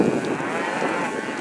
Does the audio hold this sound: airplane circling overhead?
no